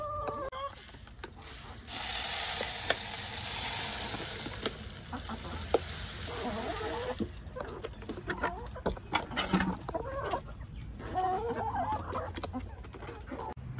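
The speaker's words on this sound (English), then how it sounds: "Here is an older chicken, but they want what I got." Backyard hens, including an Easter Egger, cluck and murmur close by amid scratching and rubbing sounds and a steady high-pitched hiss, with scattered short clucks throughout.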